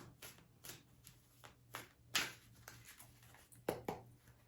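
Several quick riffling bursts of playing cards being shuffled, close and fairly quiet, repeated in short bouts over a low steady hum.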